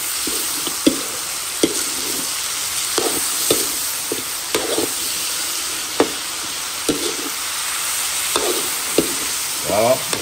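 Pork frying in a pan gives a constant sizzle while a utensil stirs and scrapes it in irregular knocks and clinks, close up and fairly loud.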